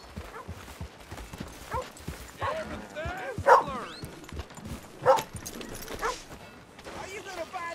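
Horse hooves clip-clopping with short whinnies and snorts in the video game Red Dead Redemption 2, mixed with voices talking in the background.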